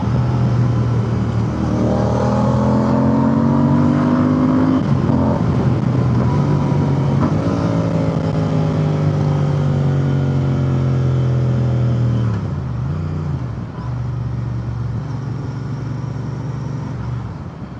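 Royal Enfield Interceptor 650 twin-cylinder motorcycle exhaust revving past 4,000 RPM, climbing and dropping through gear changes with downshift blips, loud and close throughout with no talk.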